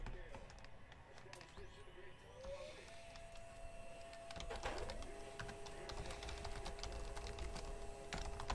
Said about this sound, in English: New list gets printed out.